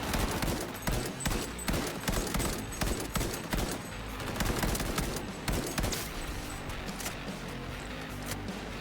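Rapid bursts of gunfire from the Cyberpunk video game, dense overlapping shots and automatic fire rattling continuously and loudly throughout, with no pause in the barrage.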